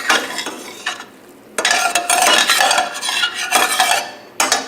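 A loud hissing sizzle in a hot pan comes in bursts as the pan is deglazed after cooking pork chops, with utensils scraping and stirring between them.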